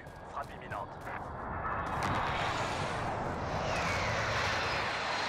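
An airstrike aircraft in Call of Duty Warzone sweeps in with a rising, roaring engine drone that swells and holds loud, preceded by a few brief clicks and faint game sounds.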